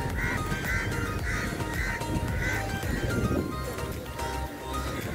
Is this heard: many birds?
yes